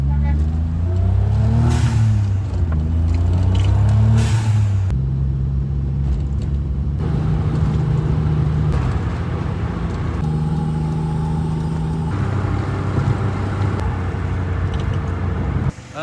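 A car drives along a road toward Connecticut, its engine rumbling steadily throughout and shifting pitch as it accelerates and changes gear, with steady road noise underneath.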